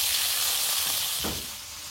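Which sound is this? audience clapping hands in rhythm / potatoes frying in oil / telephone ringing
potatoes frying in oil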